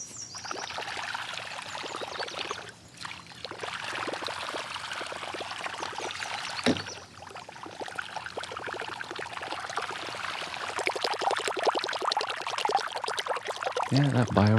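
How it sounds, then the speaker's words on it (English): A Bio Rat topwater lure with two spinning feet churns across the water surface, giving a continuous hissing splash and sputter that swells louder as it nears, with a brief lull partway through. "He's got those two spinning feet that should kick up some water and make a commotion."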